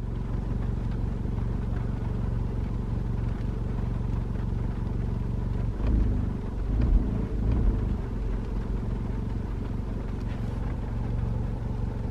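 An APR Stage 2 tuned MK7 Volkswagen GTI idles with a chattering fault, giving a steady, close low-pitched rumble with a brief rougher patch midway.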